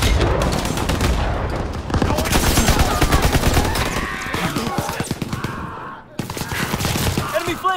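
Loud, dense battlefield gunfire from Call of Duty WWII, with rapid machine-gun bursts and rifle fire chattering almost nonstop and booming explosions mixed in, then a brief lull before the shooting resumes.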